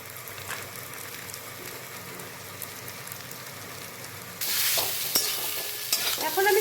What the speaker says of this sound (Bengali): এখন আমি সমস্ত উপকরণগুলোকে ভালো মতো মিশিয়ে নিচ্ছি।